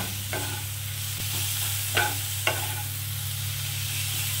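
Onions frying in a pan for Bengali prawn posto, with a steady sizzle and a few soft stirring scrapes. No one talks.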